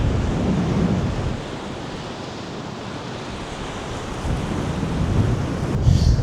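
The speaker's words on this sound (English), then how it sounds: "And the waves are coming in." Surf rolls in steadily on a beach where a 4WD can bog down, a loud continuous wash with wind buffeting the microphone, swelling slightly toward the end.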